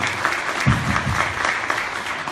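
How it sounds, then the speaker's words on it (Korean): An audience claps warmly to welcome a university professor taking the stage at a Korean policy forum on real estate proposals, with steady, dense applause throughout and a brief stronger low thump partway through. "뜨거운 박수로 환영해 주십시오."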